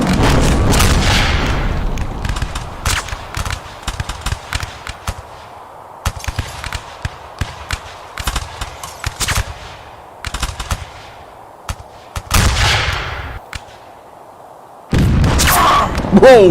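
Bursts of musket and rifle fire in the Revolutionary War video game Rise of Liberty, with sharp repeated shots and booms scattered across the scene, loud and close, interspersed with quieter stretches and intermittent game noise.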